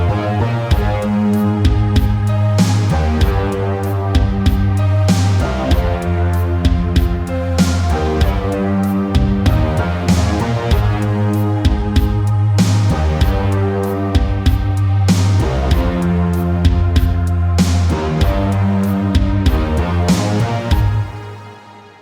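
Retro 1980s-style synth bass line built in FL Studio, loud and steady with repeating notes over a full backing with drums and melody.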